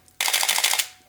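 Canon EOS 1N film camera shutter firing in a rapid motor-driven burst of about eight crisp clicks over roughly 0.6 seconds, loud and close, then trailing off into quiet.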